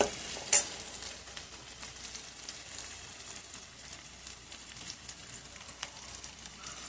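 A vegetable dish with green chilies being stirred in a pan on the stove, a continuous soft sizzle with faint scraping and a couple of brief clinks, no voices.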